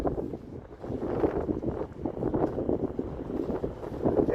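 Wind buffeting a microphone during an outdoor walk through North York Centre in Toronto, a steady low rumbling roar with irregular gusts throughout, close and moderately loud, with no voices.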